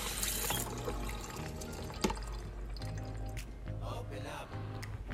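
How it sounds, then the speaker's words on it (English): Konjac noodles rinsed by hand under running water, a close steady splash and trickle with rustling and drips as fingers work through the noodles in a strainer. "I'll use my hands to make sure all of it's evenly rinsed off."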